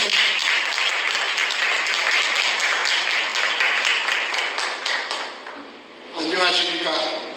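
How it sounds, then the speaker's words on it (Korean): Audience applause and clapping at a public rally in Korea greet a speaker, a dense crowd wash that holds steady for several seconds, dips briefly, then swells again with a voice rising over it near the end. "다시 한번 박수로 맞이해주십시오."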